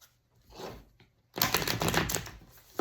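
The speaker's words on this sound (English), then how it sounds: "One more shuffle." A deck of tarot cards being shuffled, a soft riffle followed by a louder, sustained burst of rapid papery flutter and clatter, close up with no talking.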